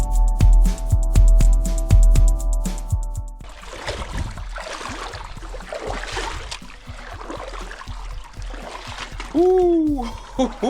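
Footsteps wading and splashing through cold, shin-deep water in a narrow slot canyon, Zebra Canyon in Grand Staircase-Escalante, Utah; steady close splashing and trickling, with a brief voice near the end.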